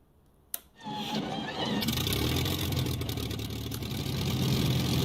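Supermarine Spitfire Mk1a engine starting in a flight simulator: a sharp click, then the engine catches and settles into a steady, loud, rumbling run.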